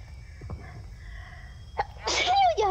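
One sharp sneeze bursts out over a quiet room hum after a few soft sounds, close and fairly loud.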